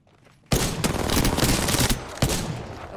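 Rapid gunfire in Apex Legends breaks out abruptly after a quiet start, a dense, loud burst of automatic shots with sharp accents near the end.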